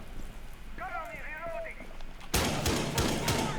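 Bursts of gunfire in Rainbow Six Siege during a Pro League qualifier match, breaking out abruptly after a quieter stretch and repeating loudly at close range beneath an esports caster's commentary.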